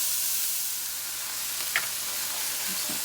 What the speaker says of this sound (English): I'm going to cook this about a minute or so, just enough for the vegetables to get soft.